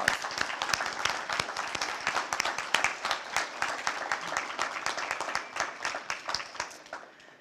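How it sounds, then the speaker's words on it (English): Audience applause at an Arbor Day 2016 ceremony in Jacksonville, a steady round of many hands clapping that holds for several seconds and tapers slightly toward the end, with no talk over it. "Let's give him a round of applause."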